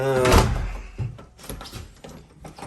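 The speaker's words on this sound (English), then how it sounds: "It's actually a nice little screen door here too." A door creaks open with a squeaky groan, then rattles and clatters lightly as it swings and knocks shut a couple of times.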